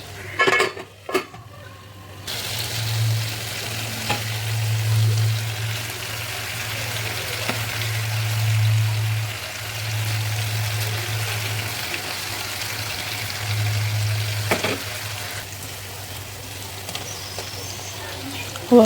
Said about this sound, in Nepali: अब यसलाई छोप्दै चलाउँदै पकाउँदै गर्ने, अनि जबसम्म टमाटर गर्दैन तबसम्म पकाइराख्ने।